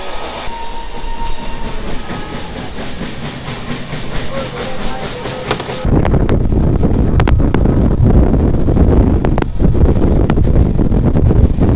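The Kandari Express rolls along after leaving the station, a loud continuous rumble with wind buffeting and rattling clatter from inside the carriage, growing heavier and louder partway through with occasional sharp knocks.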